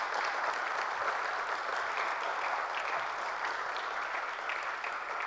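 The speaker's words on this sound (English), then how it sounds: "Let's give a round of applause to Tom and Leela, who are about to come and play some more music for us." Audience applause for two musicians about to perform at a talk event, a steady dense wash of many hands clapping that holds evenly loud throughout with no voices.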